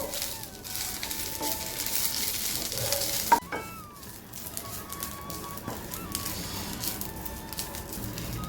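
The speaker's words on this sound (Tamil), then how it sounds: "இப்போ நல்லா ரோஸ்ட் ஆக ஆரம்பிச்சிருச்சு" Drumstick leaves dry-roasting in a pan give a soft, continuous crackle and rustle of stirring, with a sharp scrape or clink partway through, fairly faint.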